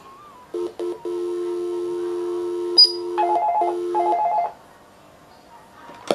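Dial tones and a rapid string of touch-tone digit beeps from a homemade DIY telephony device, each keypress a short clear tone, followed by a brief ringing sound, all close and alone.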